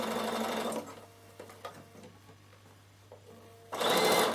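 Bernina sewing machine stitching a second row on a wool appliqué draught stopper, running in two loud bursts at the start and end with a quieter stretch of faint handling between them.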